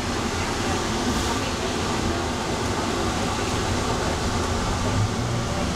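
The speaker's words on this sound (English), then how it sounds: "Please hold on. This train is departing." An automated people mover train at Atlanta's Hartsfield-Jackson Airport pulls away, a steady hum and rumble of wheels and air conditioning that stays even and continuous throughout.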